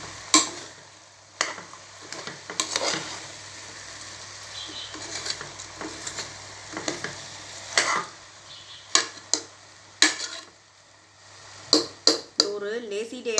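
Channa dal biryani rice is stirred in a pot, with soft scraping and patting strokes and intermittent clinks of the spoon against the metal over a low sizzle. Someone talks quietly in the background.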